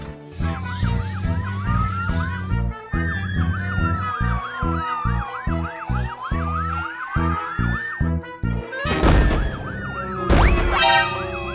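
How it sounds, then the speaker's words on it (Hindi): A police siren wails and yelps continuously, loud and close, its pitch sweeping up and down in rapid cycles over rumbling traffic. "पुलिस की गाड़ी।"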